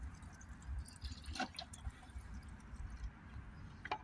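A 50-50 mix of fluid and water poured into a container for a Mercedes ML 250 diesel, soft trickling and gurgling with a few drips, faint and close.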